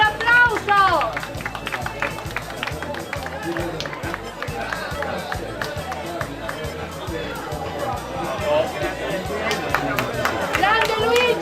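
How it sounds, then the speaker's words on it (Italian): Crowd at an outdoor town fair award ceremony in Sicily claps in a loose, uneven patter mixed with chatter and voices close by, a rhythmic pulse running underneath throughout. "Un applauso!"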